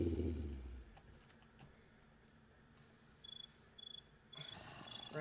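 Crickets chirp in the Minecraft video game: three short, evenly spaced bursts stand out over a faint, quiet background after a brief low thump at the start.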